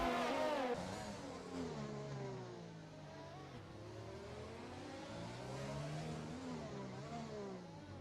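A race car in a Monaco racing sim game accelerating, its engine note climbing and falling through gear changes in a sustained rising whine, moderately loud and continuous.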